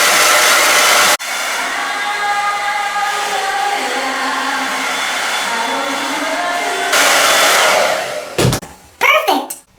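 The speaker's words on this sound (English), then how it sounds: "you're gonna want to blow dry." A hair dryer blows loudly and steadily on hair, starting and stopping near the end with a few short bursts as it is switched off and handled.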